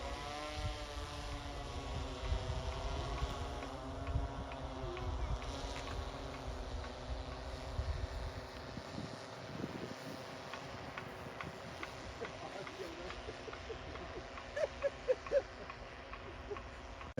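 An agricultural spray drone works over a potato field, its steady propeller drone and rushing wind noise continuous throughout at moderate distance, with a few brief louder bursts near the end.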